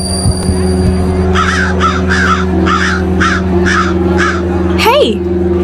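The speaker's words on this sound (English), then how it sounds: "Check out all those crows." Crows in a nearby tree caw about eight times in a steady, evenly spaced series, loud and close, over a low background hum, with one last sliding call at the end.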